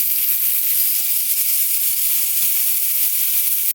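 Minced garlic fries in sesame oil in a pan, giving a bright, continuous sizzle and hiss, close and even throughout.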